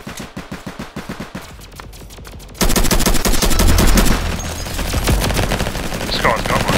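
Ray gun fire in the Roblox game Flag Wars: a quick rhythmic series of sharp shots, then a sudden switch to a loud, dense, continuous barrage of rapid blasts that carries on to the end.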